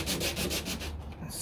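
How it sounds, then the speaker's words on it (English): Sandpaper rubbed over the fiberglass body of a 1969 C3 Corvette door, a steady close, loud rasping in rhythmic back-and-forth strokes with no talk. "Then we'll come in with the sandpaper."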